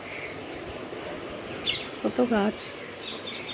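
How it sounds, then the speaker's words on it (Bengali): Birds chirp briefly among trees outside a window, a short burst of tweets with a high call just before it, heard over steady background hiss and faint room noise. "আর খুব সুন্দর পাখির আওয়াজ শোনা যায়।"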